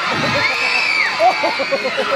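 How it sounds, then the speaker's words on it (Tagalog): A crowd at a beauty pageant's national costume round cheers and shouts, with whoops and a rising high-pitched yell over a continuous loud roar of voices. "hindi rin po ako gaganahan kung wala akong naririnig na masigabong hiyawan"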